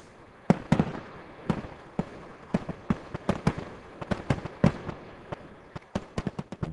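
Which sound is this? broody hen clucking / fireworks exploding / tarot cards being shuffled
fireworks exploding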